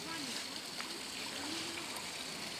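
Faint, steady trickle of water running over stones at a natural pond spring on an estate grounds, a soft continuous babble heard from nearby with light splashy texture throughout.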